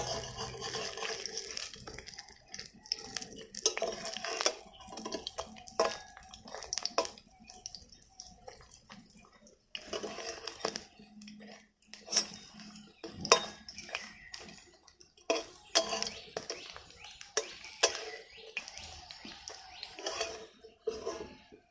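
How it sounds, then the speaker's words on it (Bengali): Pumpkin flowers fry over low heat in a pan, with repeated clinks and scrapes of a utensil turning them against the metal and a soft sizzle beneath, continuing in irregular bursts throughout. "দেখুন বন্ধুরা, ফুলগুলোকে আমি উল্টে পাল্টে হালকা আঁচে এইভাবে লাল লাল করে ভেজে নিয়েছি।"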